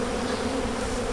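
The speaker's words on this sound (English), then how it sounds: "But there's quite a few bees in there." Bees buzzing around beehives used for August splits and nucs, a loud, steady drone with a clear tonal hum, many insects close by, continuous and without speech.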